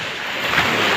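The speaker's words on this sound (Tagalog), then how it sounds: "Oh, lakas ng alon. Narinig nyo mga kalodi?" Strong ocean waves rushing at a beach, loud and close as a continuous roar of surf with wind buffeting the microphone.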